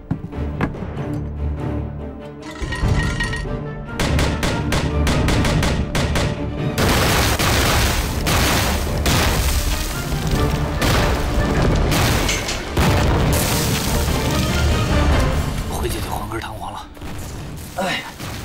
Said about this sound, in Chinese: 命令炮兵，以阵地日军士兵尸体为基点，轰炸向西200米的地区。